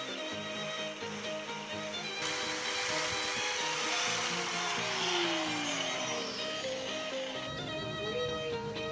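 A power tool whines steadily and fairly loud while smoothing a handmade motorcycle throttle cable part in a DIY workshop, with the pitch dipping and rising as pressure on the piece changes.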